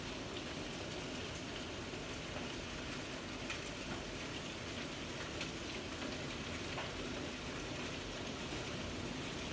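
Steady rain falls in a continuous, even hiss of drops with no pauses or voices, moderately loud throughout.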